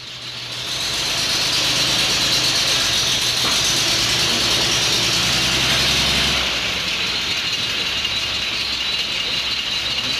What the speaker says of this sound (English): we'll kick this thing in the guts and we'll have a look at this diff climb over some bricks